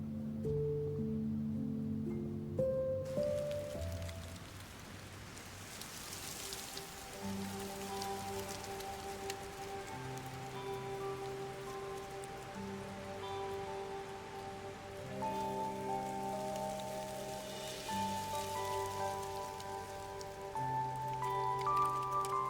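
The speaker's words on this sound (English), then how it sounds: "Keep out of the rain." Rain falls steadily in a soft, continuous patter beneath sustained music with low held tones and gentle melodic notes.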